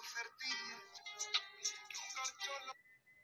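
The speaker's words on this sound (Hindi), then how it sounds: "कॉल आया है।" A melodic electronic ringtone plays in a steady, fairly loud run of chiming tones, then stops abruptly near the end.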